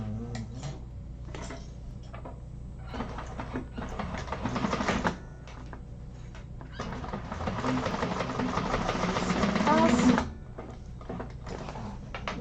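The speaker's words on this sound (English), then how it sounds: "And then we're going to sew that with a 3/8 of an inch seam allowance." A sewing machine stitches a handbag seam with a 3/8-inch allowance in two bursts, one short and one longer, each a rapid mechanical whir rising in loudness, with quiet handling clicks between them.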